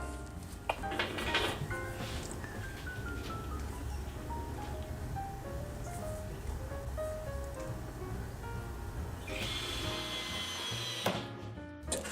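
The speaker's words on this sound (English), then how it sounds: "And screwing it down to the cart." A power drill drives screws to fasten a saw onto a wooden mobile cart, with a few short bursts of whirring and some clunks against a faint background hum.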